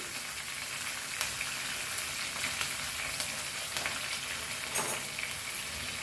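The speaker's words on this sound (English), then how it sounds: "So let's fry this. All nicely." Curry leaves, green chili and spices for a dal fry tadka sizzle steadily in hot oil, a dense, continuous crackle with a few sharper pops, close and fairly loud throughout with no talking.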